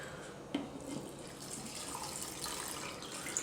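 Water poured over dill pickles packed in a jar for lacto-fermentation, a steady close running and splashing stream that continues throughout with no talk.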